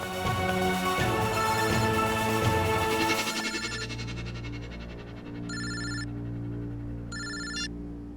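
A telephone bell rings in two short bursts near the end, following a stretch of dramatic music with sustained tones that fades out before the rings.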